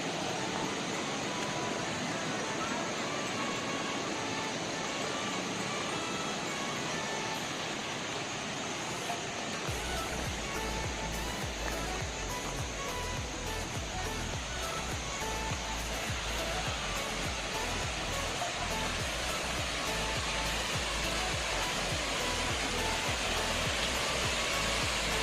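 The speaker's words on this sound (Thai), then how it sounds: "นี่นะครับน้ำตกแม่สานะครับ" Mae Sa waterfall in Chiang Mai, Thailand, pours as a loud, continuous broadband rush of falling water, growing heavier and deeper partway through, with no voices over it.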